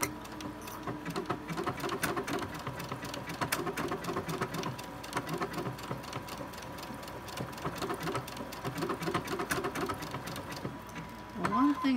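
A home sewing machine running steadily as it stitches a row of small decorative stars onto fabric for a tote bag, a quiet mechanical whirr with faint rhythmic clicking, briefly pausing near the end.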